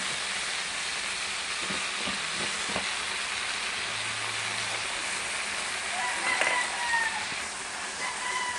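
Corned beef frying in a pan, a steady soft sizzle and hiss throughout with a few faint clinks, no talking.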